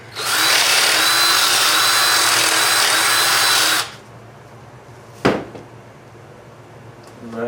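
A drill runs at high speed for about four seconds while boring holes in a metal muffler flange, then stops; a single sharp metallic clack follows, then quiet room noise.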